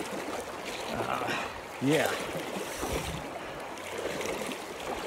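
Splashing steps through a cold, shallow mountain stream, stretching about 50 yards, in the Frank Church Wilderness. Someone wades in tennis shoes with steady water noise and sloshing around the legs, while a voice speaks briefly close by.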